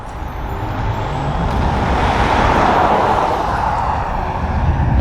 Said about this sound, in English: I do apologize again for the traffic noise here.